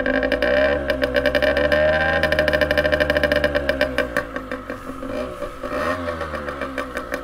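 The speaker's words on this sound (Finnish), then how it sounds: "Pistetään mopo ensin käyntiin." An enduro moped starts up and settles into a steady idle, its small engine putting out a rapid, even putter with a slight dip and rise in pitch, close and loud with no talking.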